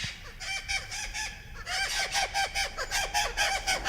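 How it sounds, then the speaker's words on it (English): Wild parrots calling in a foraging area, a flock giving repeated harsh, squawking cries in quick rhythmic bursts, loud and close, growing denser and busier partway through. "And here come the parrots."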